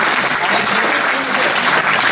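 Audience applause at an industrial hackathon event held at a university in Gujarat, a loud, dense, continuous clapping from a large crowd filling the whole moment.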